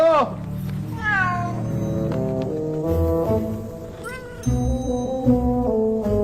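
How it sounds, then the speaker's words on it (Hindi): A cat meows several times, rising and falling cries near the start and again midway, set against a busy background of voices and tonal film sound in a Hindi-dubbed action movie scene. "ये तो बिल्ली है।"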